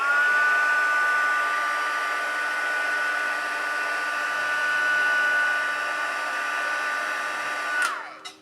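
A heat tool blows hot air to heat set paint, a loud, steady electric whirr with a high whine that runs unbroken before dropping off sharply as it switches off near the end.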